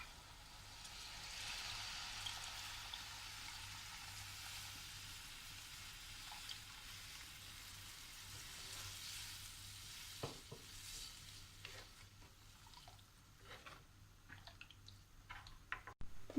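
Second coconut milk poured into a liver curry with garam masala, giving a steady, soft sizzle and bubbling with light stirring. A few sharper clicks and pops appear near the end.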